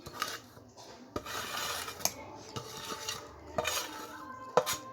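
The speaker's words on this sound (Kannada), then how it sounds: "ಇದನ್ನೆಲ್ಲ ನೀಟಾಗಿ ಮಿಕ್ಸ್ ಮಾಡ್ಕೊತಾ ಇದ್ದೀನಿ ಫ್ರೆಂಡ್ಸ್." Grated carrot (three large carrots), coriander leaves and four or five green chillies being mixed together in a bowl, with scattered clinks and scrapes of utensil on dish over soft rubbing, no voices.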